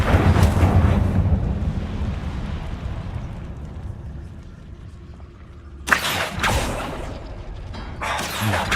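Incendio fire spell cast in Hogwarts Legacy: a loud, roaring fiery rush that slowly fades into a low rumble, then a sharp burst flares up again, followed by further crackling whooshes.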